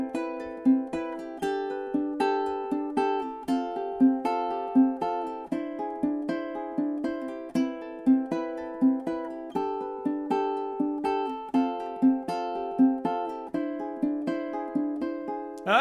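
An acoustic guitar fingerpicks a flamenco-style chord progression at full speed, with clear, close plucked notes and chords in a steady rhythmic pattern of repeated attacks, played alone without talk.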